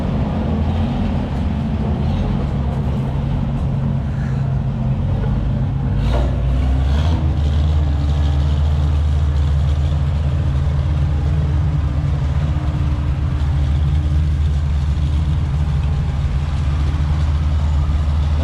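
An Oliver tractor engine runs steadily nearby, a loud low rumbling idle that holds constant throughout with no talk over it.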